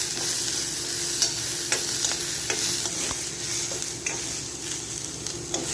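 Onion frying in oil and masala while being stirred, for a soybean chunk curry: steady close sizzle throughout, with spatula scrapes and taps against the pan at irregular intervals, no voices.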